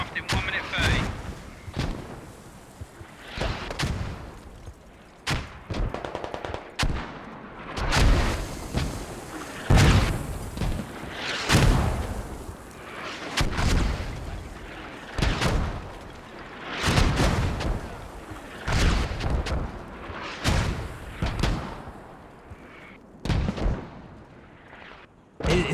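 Mortar and gunfire explosions in the video game Squad: repeated heavy booms and bursts of gunfire at irregular intervals, some near and loud, others more distant, with a voice talking over the battle.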